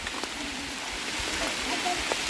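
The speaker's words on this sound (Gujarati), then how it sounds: "વરસાદ ચાલુ થઈ ગયો હોય" Steady rain falls at a village temple, a continuous soft hiss of drops spread across the whole moment with no clear pauses, fairly close and even, with no one speaking over it.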